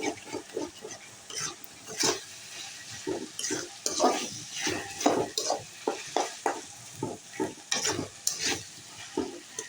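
Onion, green chili and spice masala stir-fried in a pan for chicken roast, a spatula scraping and stirring in steady repeated strokes over a close, continuous sizzle, with no voices.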